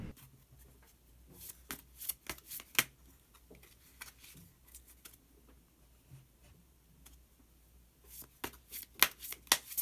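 Tarot cards being shuffled and drawn on a table, soft close flicks and taps scattered in short bursts with quiet gaps, loudest at the start and end.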